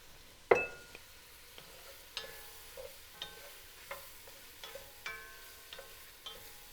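Shiitake mushrooms cook with onions in butter and olive oil, giving a soft, quiet sizzle broken by a sharp clink at the start and a series of light, evenly spaced stirring taps.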